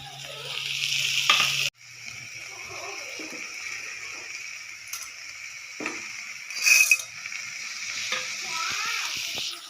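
Chana dal and coconut flour dry-roasting in a pan, heard as a continuous soft crackle and sizzle with occasional stirring scrapes and a brief louder clatter midway.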